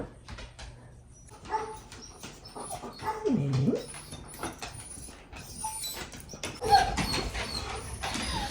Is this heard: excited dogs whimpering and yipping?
yes